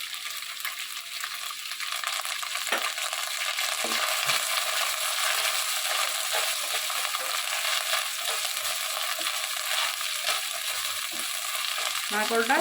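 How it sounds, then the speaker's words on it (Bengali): Grated coconut and bitter gourd leaves stir-fry in a pan for a Bengali dish, making a continuous close sizzle with scattered spatula scrapes and clicks. "কোয়ানো নারকেলটা দিয়ে একটু নাড়াচাড়া করে ভাজতে হবে।"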